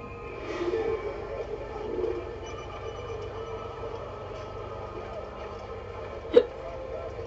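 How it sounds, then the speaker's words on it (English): A single sharp hiccup from a man playing Assassin's Creed, sounding once near the end over a steady low game background hum; close and brief. "Sorry guys, hiccups."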